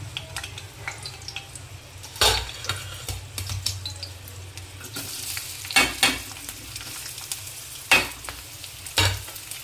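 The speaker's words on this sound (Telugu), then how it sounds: "ఇగోండి ఉల్లిపాయలు అయితే వేయించుకుంటున్నాము." Onions sizzle steadily in a pan for a brinjal curry tempering while a spoon scrapes and knocks against it every few seconds.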